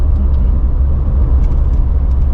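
An MG Metro with reworked Hydragas suspension driving along a bumpy road, a loud continuous engine and road rumble from inside the car with faint rattles.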